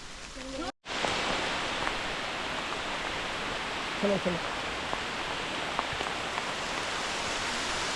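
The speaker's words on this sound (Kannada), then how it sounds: "ಮಳೆ ಬೇರೆ ಸ್ಟಾರ್ಟ್ ಆಯಿತು" Steady, dense rain hiss in the forest on the Kodachadri trek fills the whole stretch, with a brief dropout near the start and a few faint knocks and tones beneath.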